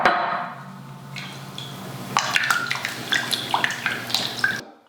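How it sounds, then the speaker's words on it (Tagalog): Water is tipped into a cooking pan, a soft splashing pour at first, then a run of clinking, tapping and sloshing sounds from the pan and utensils. "ilagay na natin lahat ng tubig."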